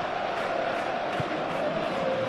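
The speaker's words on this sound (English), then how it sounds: "the crowd clearly like what they just saw" A stadium crowd cheers in the eFootball 24 football game during a Paris Saint-Germain versus Real Madrid match, a dense, continuous roar of many voices with rising whoops, steady and loud throughout.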